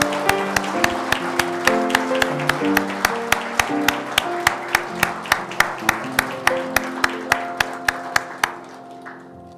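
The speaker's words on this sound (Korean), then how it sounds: "함께 박수로 격려하겠습니다" A church congregation at a Sunday worship service claps in unison, a strong, evenly spaced rhythm of sharp beats over sustained organ or keyboard chords, continuing for several seconds before the music fades out.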